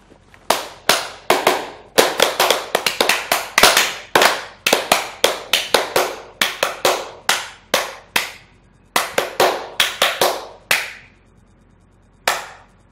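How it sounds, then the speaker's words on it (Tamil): A group of students in a classroom claps in sharp, uneven bursts, irregular slaps coming close together for about eleven seconds before thinning out to a last lone clap, loud and near with no talk. "இன்னைக்கு கரெக்டாக பதில் சொல்லியிருக்கான்ல, அதில் கை தட்டுங்கடா"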